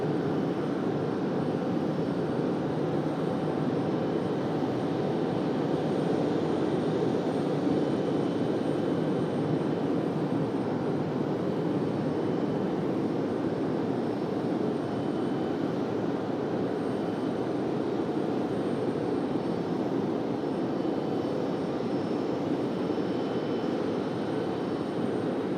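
An American Airlines jet arriving from Charlotte at Raleigh-Durham airport roars in a steady, loud, broadband rumble that holds evenly throughout with no voices.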